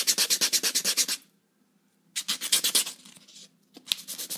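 A credit card guitar pick is rubbed against sandpaper in quick rhythmic strokes, two bursts of close scratchy rasping separated by a pause of near silence.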